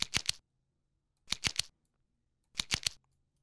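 A shaker-like percussion sample from a lo-fi beat, resembling a crinkling paper bag, plays as three evenly spaced bursts of quick, crisp rattles with silence between them. Close and clean, with no voices.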